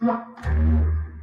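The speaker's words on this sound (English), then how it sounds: "And then some humpback whales." A humpback whale song recording carries a short tonal moan followed by a deep, sustained rumbling call, loud and close within about a second.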